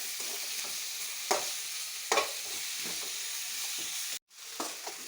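Sliced tomato sautéing with browned onion in a pan gives a steady close sizzle, broken by a few scraping stirs and a brief dropout near the end.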